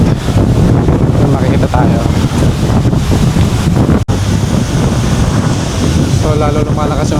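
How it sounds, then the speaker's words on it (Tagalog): Strong wind buffets the microphone with a loud rushing roar while surf crashes on Boracay beach, and a voice talks over the noise. "lalo lumalakas yung hangin guys"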